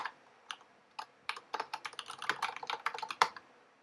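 Quick, close typing on a computer keyboard while entering a Python filename, with uneven bursts of crisp key clicks that grow denser toward the end.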